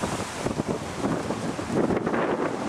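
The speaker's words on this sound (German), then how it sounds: "sehr windig hier heute" Strong gusts buffet the microphone in the old garden of the Royal Horticultural Society at Wisley, making a loud, rumbling roar that rises and falls unevenly and stays close throughout. No one speaks.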